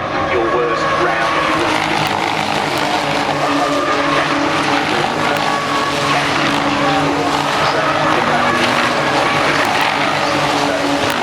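GT race car at Brands Hatch circuit spinning during a British GT race, a loud roaring engine with tyre squeal and skidding, while a commentator talks over the sound.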